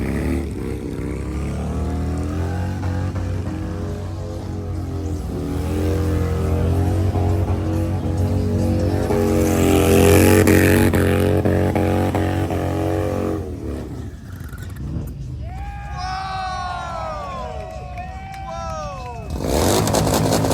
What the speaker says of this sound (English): Motorcycles burning up the streets of Brooklyn.